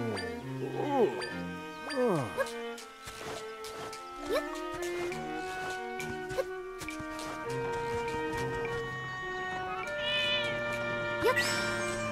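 A cat meows repeatedly in the video game Zelda: Echoes of Wisdom, over cheerful game music with tinkling chimes.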